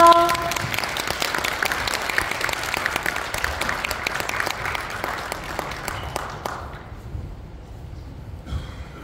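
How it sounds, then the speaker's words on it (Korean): A conference audience claps in welcome for a global business team stepping up to give greetings, a dense burst of hand claps that holds steady for several seconds, then thins and fades out toward the end. "뜨거운 박수로 환영해 주십시오"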